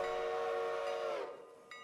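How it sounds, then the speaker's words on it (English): A locomotive horn blowing for a grade crossing on a rail line holds one loud sustained chord that then drops off and fades, ending with a faint brief tone. "I know you're having fun blowing for the grade crossing there, Al"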